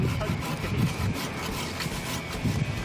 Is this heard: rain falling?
no